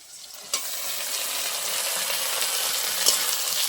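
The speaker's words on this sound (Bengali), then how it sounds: "এবার পেঁয়াজের মধ্যে আদা আর রসুন বাটা দিয়ে দেবো।" Ginger and garlic paste added to browned onions in a pan, frying with a loud, steady broadband sizzle close by, broken by a couple of sharp stirring clicks and no talk.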